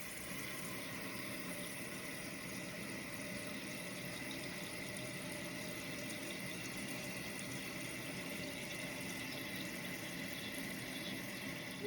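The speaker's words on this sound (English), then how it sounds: "The toilet's running. It's filling up." A newly installed 1.6-gallon toilet tank refills with water after a flush, giving a steady, unbroken rushing hiss that holds an even level from start to finish with no voices.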